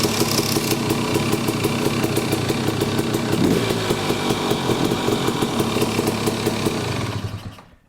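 A two-stroke engine fitted with a Lectron Billetron Pro carburetor runs close and loud with a rapid, raspy buzzing pulse, holding a steady high idle for about seven seconds before cutting off abruptly.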